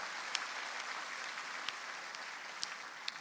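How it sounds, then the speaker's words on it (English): A crowd at a world bowls championship final applauds, giving a fairly quiet, even patter of clapping from a distance, with a few sharper claps now and then over the short burst. "Give him a nice round of applause."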